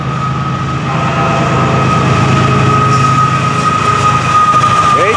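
A green FEC train rumbles past nearby with a steady heavy roar and a sustained horn-like tone, the noise building slightly toward the end.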